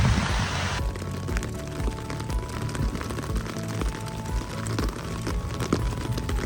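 Heavy rain pours steadily onto a rice field where seed paddy is being sown, making a dense, continuous hiss and patter that holds at an even level from start to finish, with no voices.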